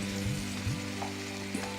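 Tomatoes and turmeric sizzle steadily in a hot pan for Indian chickpea masala, a close, constant frying crackle with a few soft stirring scrapes and no voices.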